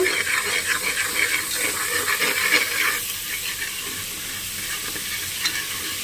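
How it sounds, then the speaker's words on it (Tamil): Ginger garlic paste sizzles in hot oil in a pan while being stirred for a chana masala gravy, a steady, close frying crackle with scraping strokes throughout and no talking. "நல்லா கிண்டி விட்டுருங்க"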